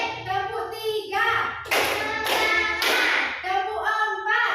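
Children in a classroom clap a rhythmic pattern in unison, several loud, sharp bursts of clapping set between stretches of young voices chanting together.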